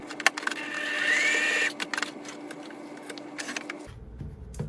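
A sewing machine stitches a jacket seam at a regular stitch length in a short whirring run of about a second and a half, with clicks and handling noises around it and no speech.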